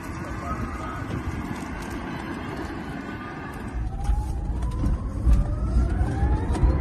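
A 1,200-horsepower Drako Dragon electric SUV accelerating, a low rumble of road and wind noise building in loudness with a faint rising motor whine in the second half.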